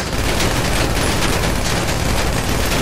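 Rapid gunfire in a video game, aimed at a car's tires, crackles as a loud, steady burst for nearly three seconds with no let-up and no talk over it.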